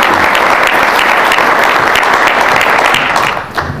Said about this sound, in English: I think you should give your chamber a round of applause